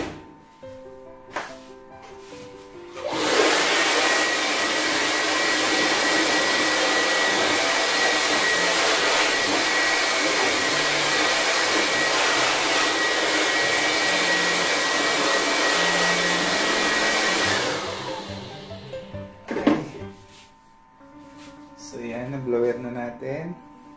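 A blower roars steadily and loudly for about fifteen seconds, blowing dust out of a desktop PC case, then cuts off, leaving faint handling knocks before and after.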